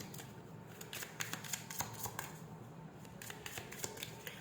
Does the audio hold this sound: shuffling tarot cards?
yes